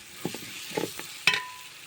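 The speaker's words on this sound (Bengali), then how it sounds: "এখন আগে থেকে ধুয়ে রাখা চাল ও ডাল দিয়ে দেব। দিয়ে হালকা একটু কষিয়ে নেব অল্প করে।" Washed rice and lentils sautéed with fried onion and garlic in a pan, a soft sizzle under a few short stirring scrapes and a metallic clink.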